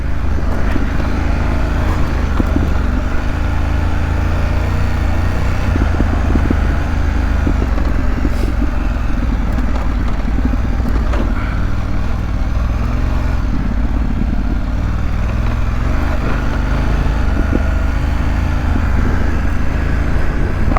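A 2025 BMW F 900 GS motorcycle held in first gear on an unpaved mountain road, its engine a steady, loud drone with rough low rumble and wind buffeting throughout, no talk.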